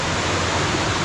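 A steady, broadband rush of falling water from a 3-4 meter waterfall in a mountain stream fills the whole clip, loud and close with no breaks.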